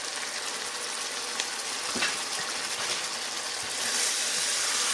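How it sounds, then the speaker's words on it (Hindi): Goat trotters (paye) frying in oil with ground spices, paprika powder and turmeric, giving a steady close sizzle with faint stirring scrapes, no voices. "अब इसको अच्छी तरह से भून लेंगे।"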